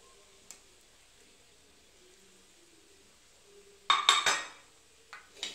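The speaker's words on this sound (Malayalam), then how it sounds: "ഇനി നമുക്ക് ഈ കുരുകളഞ്ഞ് വെച്ച നെല്ലിക്ക വറുത്തത് ഇട്ട് കൊടുക്കാം." Fried, deseeded gooseberries go into a pan of sautéed green chillies for a gooseberry pickle, making a short burst of clinks and clatter after a long quiet stretch, followed by a couple of fainter knocks.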